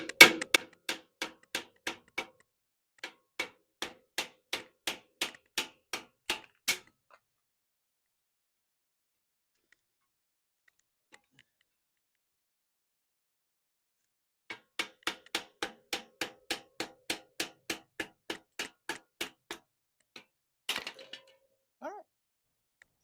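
A small pin hammer taps a metal kindling splitter in fast, even bursts of sharp strikes. There are two long runs of blows with a quiet pause between them.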